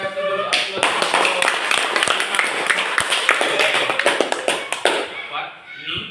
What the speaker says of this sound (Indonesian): kita kasih dulu aplaus